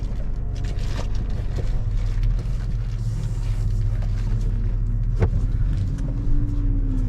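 A 2003 Mercedes S500 AMG driving off, its engine giving a low steady rumble with road noise and a few faint clicks, fairly close and without talk.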